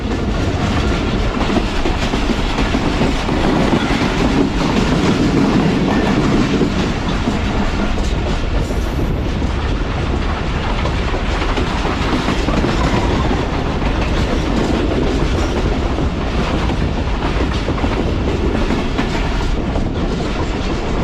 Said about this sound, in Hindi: दोस्तों फाइनली शहदादपुर आउटर से ट्रेन जो है वो स्पीड अच्छी हुई है।